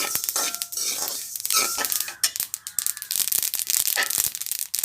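Sesame seeds dry-roast in a pan, crackling and popping in quick, irregular bursts close up, with stirring scrapes mixed in and no talk.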